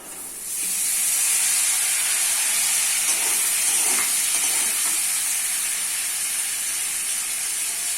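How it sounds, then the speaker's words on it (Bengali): Teasel gourd and potatoes fry with chopped soy chunks and browned onion, giving a loud, steady sizzle that holds without a break, close up and with no voices. "ভাজি করার জন্য দিয়ে দিই সয়াবিন কুচি, পেঁয়াজ কুচি, পেঁয়াজ লাল হয়ে গেছে, দিয়ে দিচ্ছি কাঁকরোল আলু"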